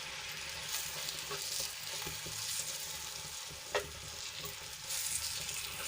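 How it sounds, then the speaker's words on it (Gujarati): Spice masala being stirred into Kathiawadi-style stuffed green chillies frying in a pan, with a steady close sizzle, soft scraping strokes and one brief sharp tap. "એની ઉપર આપણે આ જે મસાલો હતો એ એડ કરી દઈશું ને સરસ રીતે મિક્સ કરી લઈશું"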